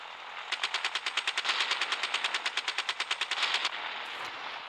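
Rapid machine-gun fire in the Gunship Battle naval combat video game: a single sustained burst of about twenty-five evenly spaced sharp shots, fairly loud, with no talking over it.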